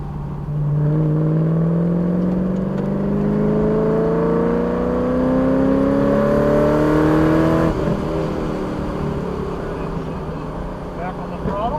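A car accelerating hard on a race track during a first open track day, its engine note climbing steadily through a gear before a shift, heard from inside the cabin, loud and sustained.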